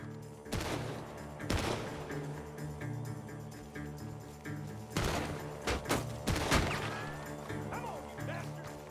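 A barrage of sharp gunshots in clustered bursts from the video game Red Dead Redemption 2, loud and close, with crashing impacts over a steady background hum.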